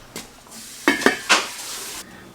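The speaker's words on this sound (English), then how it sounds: "I'm going to cover these and let them be cooking" A lid is set over a pan of vegetables cooking in a little olive oil, making three close, sharp metal clatters against a soft sizzling background.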